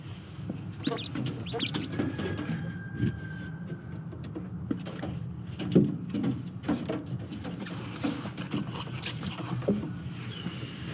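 An injured quail in a cage gives soft, scattered clucking calls against a quiet background, with occasional rustles and a faint high tone.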